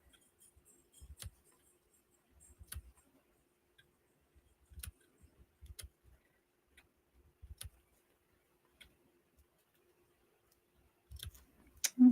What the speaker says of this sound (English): just put one little snip into each one